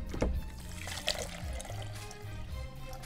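Water poured over granulated iced tea mix, a short close splash and gurgle of liquid with a few small knocks, heard alone without talking.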